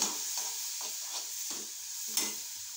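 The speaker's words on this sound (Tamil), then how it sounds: "இதை நல்லா வதக்கணும்." A spiced egg mixture sautés in a pan, with a soft continuous sizzle broken by repeated stirring scrapes about every second. No voices are heard.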